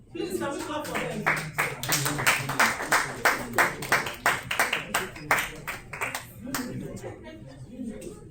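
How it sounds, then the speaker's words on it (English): Audience at a conference session clapping to welcome the speakers: a steady burst of sharp, fairly close hand claps lasting several seconds, tapering off with some murmuring voices at the end. "Please, can we clap for them?"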